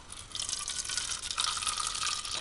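Water pours steadily into a container while gesso is prepared for molds, a continuous splashing fill with a brighter gush midway, close and alone without talk.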